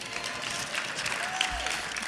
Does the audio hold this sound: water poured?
no